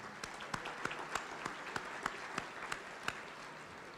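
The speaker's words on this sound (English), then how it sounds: "Give them a round of applause, please." Audience at a business celebration luncheon applauds steadily, a soft continuous patter of many hands with a few sharper claps standing out, heard from a distance in a large room with no talking.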